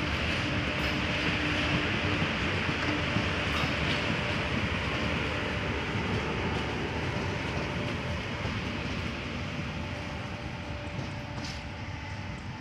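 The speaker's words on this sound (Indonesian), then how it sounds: "itu dia kereta api lokal Bandung Raya sudah diberangkatkan dari stasiun Dahuar Pugur ya" A Bandung Raya local train pulls out of Haurpugur station, rumbling steadily at moderate distance. The broadband rolling noise slowly fades as it moves away.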